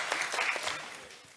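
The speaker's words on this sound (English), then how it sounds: "May I crave your indulgence to give him one more round of applause for good" A brief round of applause from a conference audience at a panel discussion on Africa and the UN Security Council, moderately loud at first and then fading away.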